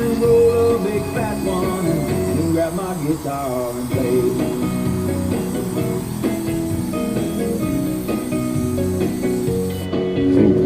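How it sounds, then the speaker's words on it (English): Continuous loud hissing of a Rust-Oleum truck bed liner aerosol can spraying a truck bed close by, steady throughout with slight variations as the spray moves back and forth. "So this is kind of just treat it like spray paint, like I said. Just go back and forth."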